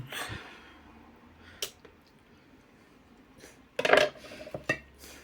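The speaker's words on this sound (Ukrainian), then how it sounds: "Спочатку ми беремо і нарізаємо наше філе на такі слайси" Knife slicing chicken fillet on a cutting board, a few scattered cuts and knocks against the board with quiet stretches between, close by.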